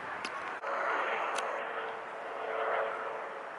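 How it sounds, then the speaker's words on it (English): A helicopter passes overhead on a nature trail at Ritter Park as a faint, steady aircraft drone that swells slightly and holds, with a couple of brief sharp ticks near the microphone. "Here comes a helicopter"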